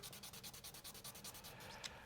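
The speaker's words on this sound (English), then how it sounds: "I think we're actually done sanding resin for the moment" Resin parts from a Gunpla conversion kit are sanded by hand in quick, regular back-and-forth strokes, a close, quiet scratchy rhythm of about a dozen rubs ending with a small tap.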